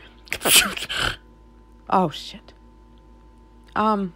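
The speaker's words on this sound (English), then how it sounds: "You just sneezed in it." A single close sneeze right at the start, sharp and loud, followed by people speaking briefly.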